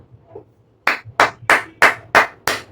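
Six sharp, evenly spaced claps ring out close by after a quiet opening, each a crisp separate slap rather than a full crowd's applause.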